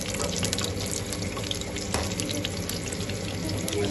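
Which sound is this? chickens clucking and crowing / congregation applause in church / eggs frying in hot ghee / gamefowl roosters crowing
eggs frying in hot ghee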